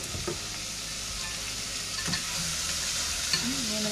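Shrimp stir-fried in a pan for a sour soup with water spinach, giving a steady close sizzle broken by a few scraping stirs and brief clinks of the utensil.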